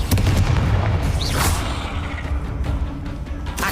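Confringo blasting spell in a Harry Potter video game: a dense, roaring explosion with a whooshing burst, loud and sustained throughout.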